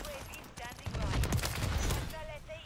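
Rapid bursts of gunfire in Call of Duty, loud and continuous over a couple of seconds, with a voice talking over the shooting.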